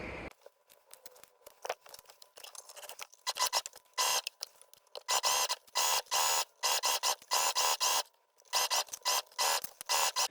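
A sewing machine stitching together two layers of fabric for a sleeveless vest, running in short rapid bursts of mechanical whirring with pauses between them, close and clear with no speech.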